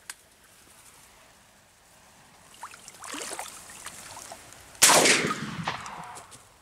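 A single sharp shotgun blast cracks out loudly outdoors during a duck hunt, trailing off into a rushing echo, after quieter rustling movement.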